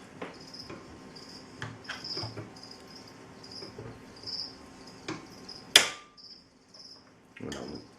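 A ratchet wrench tightens the screw of a puller on a cylinder lock, giving faint, repeated metallic clicks. A sharp crack sounds near the end, followed by a few more clicks.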